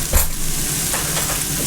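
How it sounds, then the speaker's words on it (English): Orzo pasta being stirred in a pan with paste, a short close scrape of spoon against the pan over a steady low sizzle, with no talking. "And give that a stir."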